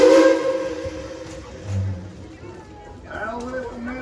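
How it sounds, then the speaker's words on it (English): The Tweetsie Railroad steam train, on a heritage weekend ride, blows a loud whistle at the start, then a second, shorter blast near the end, over steady rumble and hiss, with voices mixed in. "Casey Jones, let's get this train on back to town."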